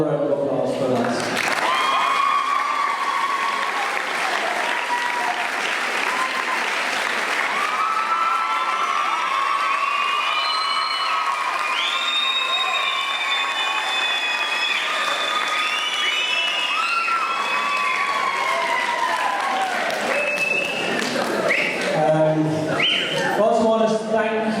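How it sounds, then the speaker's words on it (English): A crowd claps and cheers loudly for a homecoming U16 boys basketball team, All-Ireland champions, with sustained applause, whoops and children shouting that carry on for the whole stretch. "I think you all deserve another round of applause for that"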